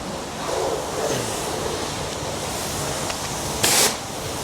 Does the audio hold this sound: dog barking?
no